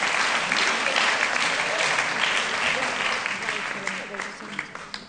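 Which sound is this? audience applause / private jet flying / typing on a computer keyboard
audience applause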